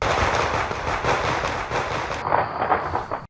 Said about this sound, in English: the noise coming from the police department shooting range in South St.